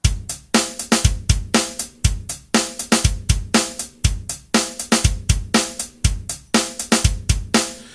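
A rock drum pattern loops steadily, punchy bass drum hits with an extra hard kick on step eleven, snare and hi-hat, repeating cleanly for several bars with no voices.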